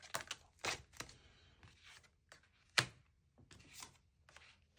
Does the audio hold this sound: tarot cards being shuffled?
yes